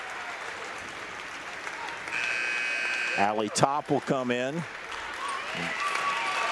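A crowd at a girls' varsity high school basketball tournament game applauds steadily as senior players leave the court. A scoreboard buzzer sounds briefly, and an announcer speaks over the clapping.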